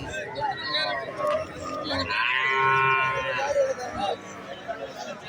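Cattle at Valliyoor cow market in Tirunelveli, with a long, loud moo rising above the market chatter and people talking nearby.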